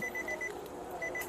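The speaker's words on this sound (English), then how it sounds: "It's just annoying hearing the beep." A car left in accessory mode sounds a repeating electronic warning beep, short evenly spaced high tones in two groups, faint and fairly close over a quiet background.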